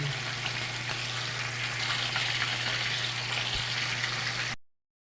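Steady sizzle of fish frying in oil with a constant low hum beneath it, crackling evenly for several seconds before cutting off abruptly.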